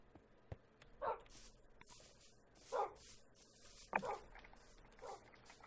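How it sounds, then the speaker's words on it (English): Several dogs bark in short separate bursts with faint yips between them, fairly close but not loud, with no talk over them. "Dogs, stop it!"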